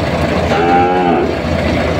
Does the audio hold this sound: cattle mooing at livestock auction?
yes